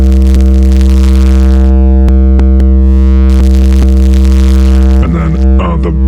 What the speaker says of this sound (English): basic distortion